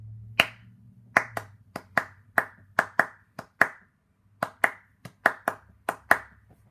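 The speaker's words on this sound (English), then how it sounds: "Here comes the whole thing. Clapped." Sharp hand claps beating out a one-beat syncopation rhythm, about sixteen crisp, close claps in uneven groupings with a short pause midway, over a faint low hum.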